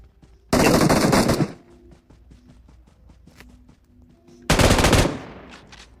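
Two loud bursts of rapid automatic gunfire in PUBG Mobile, each lasting about a second, separated by quieter clicks and shuffling.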